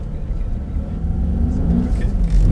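A Mercedes-AMG SL63 on a race track gives a deep, close engine rumble that builds slightly in pitch and loudness as the throttle opens, with a faint whir over it.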